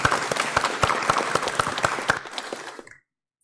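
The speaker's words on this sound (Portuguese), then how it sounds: "vamos bater uma salva de palmas para ela" A small audience at a launch of the book Círculo Mentalsomático gives brisk, close applause with distinct individual claps, which fades out and stops after about three seconds.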